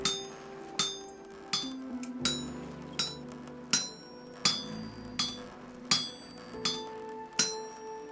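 Hammer blows on an anvil while forming metal in the survival game Vintage Story, about ten evenly spaced ringing clanks with bright metallic overtones over a quiet background.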